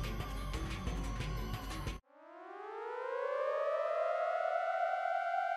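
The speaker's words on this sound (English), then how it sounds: "Suddenly, I heard a siren down below." In the video game Steins;Gate 0, after an abrupt cut from a busy noisy passage, a loud siren winds up from a low growl into a sustained rising wail that holds alone.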